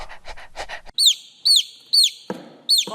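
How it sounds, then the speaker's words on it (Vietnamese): A chicken in a farm-animal sound sequence gives four short, rising squawking calls at a steady rhythm, loud and close, after a brief stretch of speech-like vocal sounds. "Con gà con chicken."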